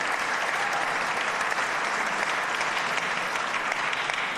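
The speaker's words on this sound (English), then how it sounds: "give him a round of applause" An audience applauds during the Rhode Island governor's 2025 State of the State address, a continuous, even roar of clapping across the whole stretch with no break or voice on top.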